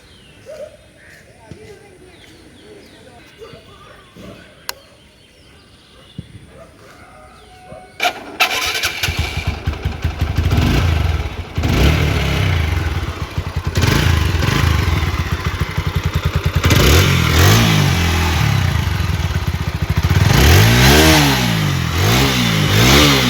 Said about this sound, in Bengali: গাড়িটির সাউন্ড আপনাদেরকে শোনানো হলো, ইঞ্জিনের সাউন্ড